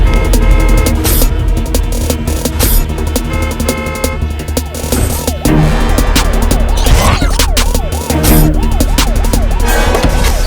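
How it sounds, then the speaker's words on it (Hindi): An ambulance siren wails in rising and falling sweeps amid stuck traffic, surfacing partway through beneath loud, dense music and street noise. "देख नहीं रहा एम्बुलेंस फंसी है पीछे"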